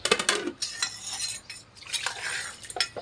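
Metal dishes and a steel plate scrubbed by hand, with scraping clinks and rubbing strokes in uneven bursts close by, with no voice.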